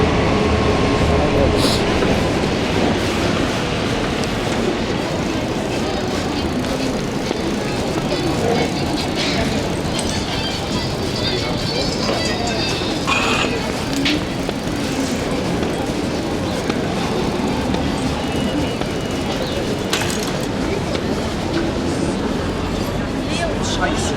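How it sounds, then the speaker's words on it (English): A busy urban U-Bahn and S-Bahn station in Stuttgart fills the background with a constant rumbling roar of rail traffic and crowd hubbub, steady and fairly loud, while a person talks nearby. "you can see you've got a U-Bahn and S-Bahn here into this"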